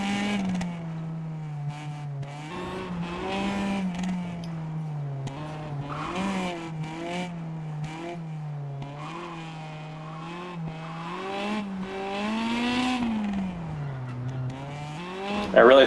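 Rally car engine from the WRC Generations racing game on a Riudecanyes stage, a steady droning tone that rises and falls with gear changes and throttle, plus occasional tyre skids, running continuously under someone talking.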